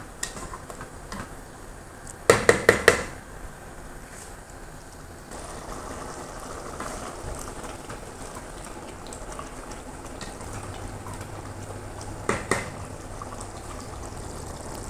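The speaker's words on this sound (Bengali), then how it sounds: "এখন আবারও টমেটোর সাথে একটু ভালো করে কষিয়ে নিব।" Low bubbling and sizzling from tomatoes sautéing in a pan, with a burst of rapid metallic taps from a utensil early on and a few more taps later.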